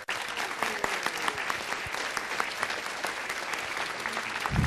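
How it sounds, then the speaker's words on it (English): An audience at a city council meeting applauds a costumed Star Wars garrison group, steady dense clapping filling the room for the whole stretch, with a few voices faintly mixed in. "Give them a round of applause."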